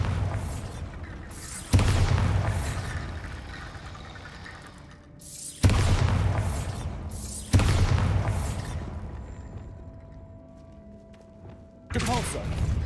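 Bombarda explosion spells cast in a Harry Potter video game: four heavy booming blasts, each a sudden loud impact followed by a long rumbling decay, with a spoken voice also present.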